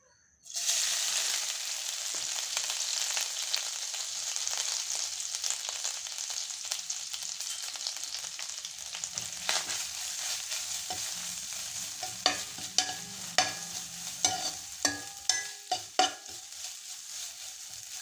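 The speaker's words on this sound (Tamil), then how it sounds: "நெய் நல்லா காஞ்சிடுச்சு இப்போ நம்ம தேங்காய் போட்டுக்கலாம்" Grated coconut fries in hot ghee for Kerala-style paal puttu, a steady close sizzle with rhythmic scrapes and clinks of a ladle stirring against the pan growing more distinct toward the end.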